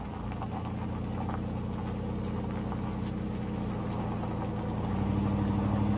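A car engine in the video game Life Is Strange 2 idles in a steady low drone, then its pitch shifts and grows slightly louder near the end, with no voices.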